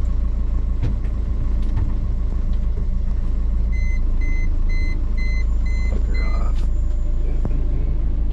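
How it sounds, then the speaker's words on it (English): An AIS alarm on a 25-foot Ranger Tug boat fitted with a new Yanmar 4JH-HTE engine, sounding as a series of short, evenly spaced electronic beeps over a steady, loud engine rumble. "AIS alarm works."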